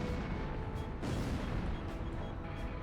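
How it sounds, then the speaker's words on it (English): A missile launch in the Ace Combat video game roars as a continuous loud, dense rumble with a sharper burst about a second in, sustained throughout. "Missile launched."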